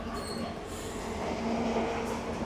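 A goods train loaded with railway rails rolls past in a valley, a steady rumble with a faint metallic whine that swells slightly toward the end, with no voices.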